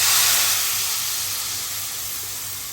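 Masala paste cooks in a hot pan for a kebab curry, giving a loud, broad hiss that slowly fades over a few seconds.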